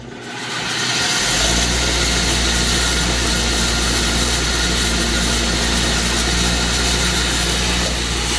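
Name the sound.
wire wheel cleaning engine head bolts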